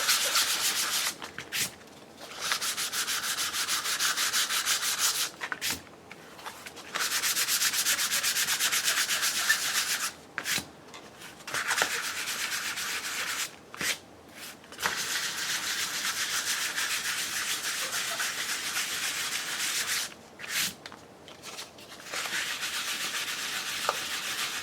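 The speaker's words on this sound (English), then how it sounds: "I'm going to do a little bit more sanding in some spots" Steady hand sanding rasps on cardboard, a continuous scratchy rubbing broken by a few short pauses, close and moderately loud.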